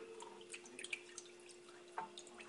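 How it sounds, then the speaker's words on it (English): Water poured into a glass container to make a bain-marie for Grand Marnier pots de crème, heard as faint, sparse drips and light splashes in a quiet kitchen. "So I'm going to pour some water"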